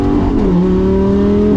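A 2014 Lamborghini Gallardo LP550-2 in Corsa mode pulls hard, its engine a loud, close, sustained roar with a quick drop and rise in pitch as it shifts.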